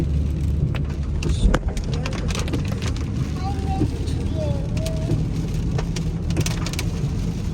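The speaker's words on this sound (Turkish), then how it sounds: "Yalnız yağmur da güzel bir şey ya." Steady rain patters outdoors while cars pass along a busy road, a constant wash of noise with brief vehicle swells and faint voices in the background.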